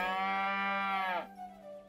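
A single loud, close cow moo from cattle struck in the video game South Park: The Stick of Truth, a drawn-out bellow lasting about a second that cuts off abruptly, with no talking.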